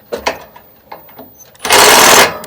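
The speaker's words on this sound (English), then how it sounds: "Now let's see if I can get these security screws off the inside back corners." A power driver backs security screws out of the inside back corners of a Huawei 45 KTL inverter, a few short clicks and taps, then a loud sustained buzzing whir up close.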